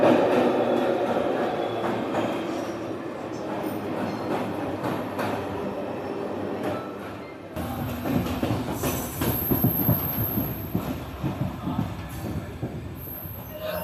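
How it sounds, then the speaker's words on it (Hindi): A MEMU passenger train runs on rails while crossing a bridge over the Ganga. Its steady rumble carries through, with wheel squeal and clatter growing louder in the second half. No one speaks. "गंगा नदी को पार करती हुई अपनी ट्रेन।"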